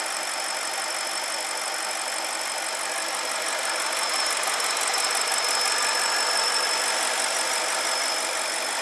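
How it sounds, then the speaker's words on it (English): BMW N62 V8 engine idling steadily with a thin, high-pitched squeal riding over the hum; constant and fairly close, no talking. "There's a little bit of a high squeal."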